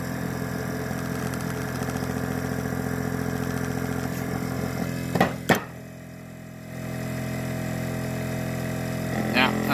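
A 12V air ride suspension compressor runs steadily with a loud, even mechanical drone and rattle, then briefly cuts out with a couple of sharp clicks and restarts, close to the microphone with some talk.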